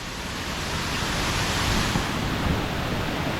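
Water from a hidden waterfall rushes and foams somewhere below slippery rocks, a steady, unbroken broadband roar that holds at an even level throughout with no voices.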